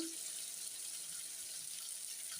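Onions and garlic sautéing in a pan for a quick moong dal side dish, a faint, even hiss that holds steady with no other sounds.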